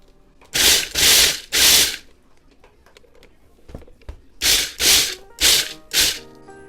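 A food processor pulses shortbread dough for a chocolate pretzel shortbread in a series of loud, harsh whirring bursts: three near the start, then four more after a quiet gap.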